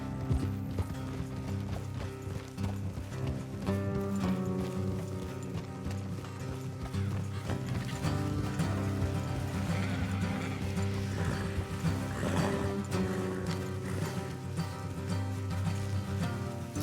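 Horse hooves clip-clop steadily in Red Dead Redemption 2, with occasional whinnies and creaking gear sounds over a low continuous background; moderate level, no talking.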